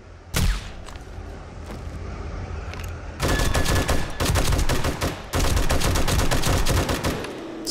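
Sniper rifle fire at a bear in the video game 7 Days to Die: one sharp, loud shot, then dense bursts of rapid, crackling gunfire and impacts that dominate the mix.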